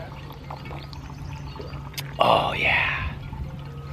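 Fresh Bull Run drinking water pours and splashes in a short burst at a Portland water site, close and fairly loud, with a soft spoken remark just before and a steady low hum underneath.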